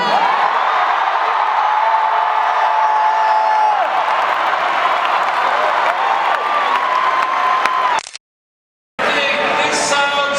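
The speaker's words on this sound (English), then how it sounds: "loud, large, and raucous crowd tonight." A large, raucous rally crowd at Temple University in Philadelphia roars with sustained cheering, whoops and shouts that stay loud and dense, briefly cut to silence near the end before the din resumes.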